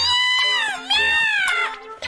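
A kitten gives a few high, drawn-out meows in quick succession, close and fairly loud.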